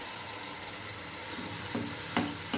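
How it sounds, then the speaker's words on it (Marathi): Brinjal curry sizzling in a kadhai as a little water from the mixer jar is poured in; a steady frying hiss builds into a few sharper bursts of sputtering near the end. "आणि मिक्सरचं भांडं आपल्याला पाणी ह्याच्यात टाकून जरा थोडंसं टाकून द्यायचं आहे कढईमध्ये"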